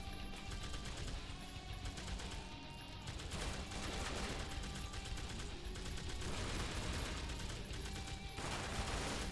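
An M16 rifle fires steadily in the Madness Interactive Reloaded game, with continuous rapid shots and overlapping volleys that keep a dense, fairly loud crackle running throughout, with no voices over it.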